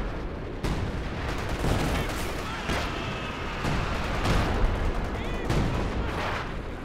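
Artillery barrage raining down in a Company of Heroes 2 match, a dense rumbling stream of booms and gunfire crackle, loud and continuous, with a voice talking over it.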